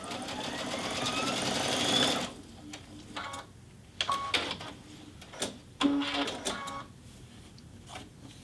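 A Baby Lock Altair 2 sewing machine ties a reinforcement stitch and then starts sewing, a quiet close whirring burst followed by short bursts of stitching and mechanical clicks, with no talk.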